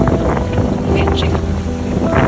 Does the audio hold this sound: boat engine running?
yes